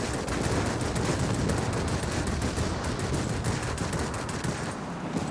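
Continuous rapid aircraft machine-gun fire during a World of Warplanes dogfight, a dense, loud, unbroken rattle of bullets filling the whole stretch with no pauses and no talking.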